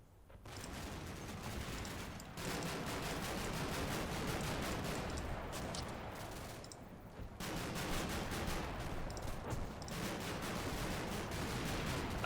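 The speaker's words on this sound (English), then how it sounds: "That's that cannon fire going through there." Sustained cannon and gunfire in the WWII tank wargame Combat Mission: Blood on the Snow, a dense continuous barrage of rapid shots and booms with brief lulls, loud and unbroken throughout.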